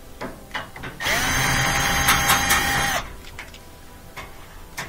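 A power drill or driver whirs for about two seconds, close and loud, backing screws out of a washing machine panel, with light clicks and handling noise before and after.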